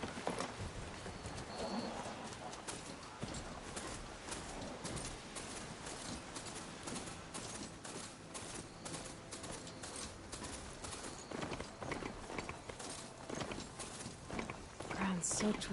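Hoofbeats of a steed in Horizon Forbidden West, a steady clip-clopping trot that runs continuously throughout under a dense, noisy game soundscape with a voice speaking over it.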